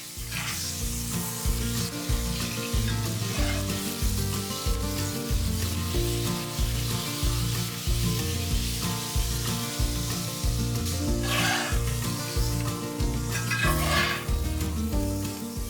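Oklahoma onion burger patties with onions cook in a hot pan, giving a steady continuous sizzle with some light scraping, heard alone over backing music.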